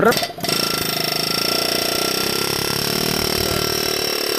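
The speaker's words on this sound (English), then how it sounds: "get the air hammer back in there a little bit more and kind of push it in" An air hammer drives an axle out of a wheel bearing hub assembly during a wheel bearing replacement, giving a loud, steady rapid hammering that runs continuously after a brief opening burst.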